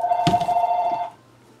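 A telephone rings in an indoor craft workspace with one steady electronic warble lasting about a second, close and clear, then cut off, with a brief thump partway through and no talking.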